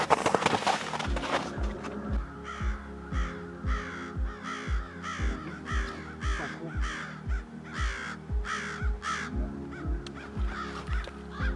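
American crows cawing during a crow hunt in Québec, a long series of loud, harsh caws repeating in a steady rhythm, close by and with no talking.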